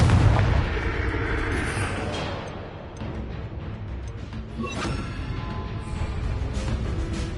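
A Confringo fire spell explodes in Hogwarts Legacy, a loud booming blast at the start that settles into a rumbling roar, with further muffled bursts following, all without talk.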